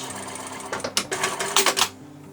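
A sewing machine runs in short bursts of stitching forward and back at the end of a seam on a tote bag with French seams, with brief pauses between the quick, clattering runs.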